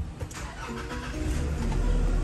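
Nissan Navara pickup started with a push-start button, the engine cranking and catching into a steady mid-pitched run close to the microphone.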